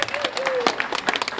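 Wedding reception guests applaud in a scattered burst of clapping, with a voice mixed in beneath it.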